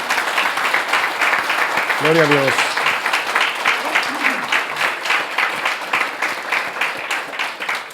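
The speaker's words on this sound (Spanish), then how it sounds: "¿Le da un aplauso al Señor por eso?" A church congregation applauds during a sermon, loud sustained clapping filling the room while a voice briefly calls out over it.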